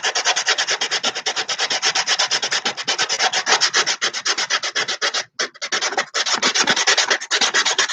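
Fine sandpaper rubs back and forth over a homemade wooden handle for a sliding door, a loud, continuous run of rapid rasping strokes outdoors in the wind, broken by one brief pause near the end.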